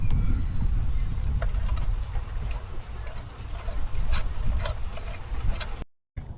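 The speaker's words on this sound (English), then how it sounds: "now we're using the Milwaukee electric ratchet" A Milwaukee electric ratchet tightens an exhaust clamp on a B9 Audi S4 downpipe, whirring and clicking loudly and continuously up close before stopping abruptly near the end.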